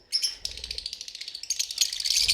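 An albino black-eyed breeder pair of lovebirds nesting in a box gives rapid, high, close chirps in quick bursts that run almost continuously, with no talking.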